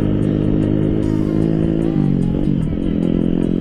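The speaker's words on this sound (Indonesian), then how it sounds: "Ini berisik sumpah motor." A noisy motorcycle on the road during an Indonesian holiday homecoming ride, its engine droning loud and close throughout with a shift in pitch midway as it revs.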